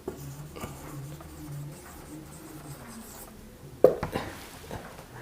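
The word January is written on a board with soft, scratchy strokes in an uneven rhythm, broken by one sharp tap partway through, close and without talk.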